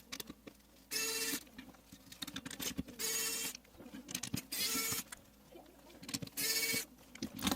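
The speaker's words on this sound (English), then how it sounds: "So to remove each fan, just unscrew this 4 screw." Fan screws being unscrewed on an ASUS TUF Gaming AMD RX 7600 XT graphics card, bursts of scratchy ratcheting screwdriver turns alternating with small clicks and handling noises, close and quiet.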